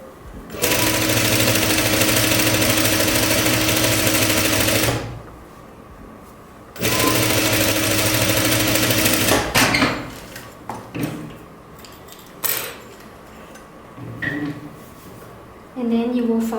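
A sewing machine top-stitches close to the edges of a jumpsuit seam, running loud and steady in two long bursts with a pause between, then gives way to scattered handling clatter and faint sounds.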